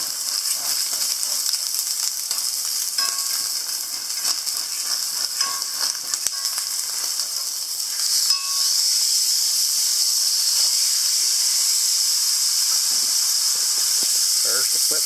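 Steak frying in a pan at an off-grid house, a constant bright sizzle and hiss with occasional squeals and pops, steady and close, with a voice speaking over it early on.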